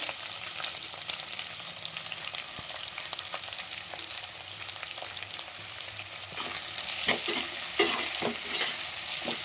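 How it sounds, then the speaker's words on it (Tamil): Three medium onions sautéing in oil until golden brown for chicken biryani sizzle at a moderate level, with constant stirring and scraping that grows a little louder toward the end. "வெங்காயம் வந்து நல்லா ஒரு கோல்டன் ப்ரௌனிஷ் வதங்கி வர வரை நல்லா வதக்கிக்கலாம்."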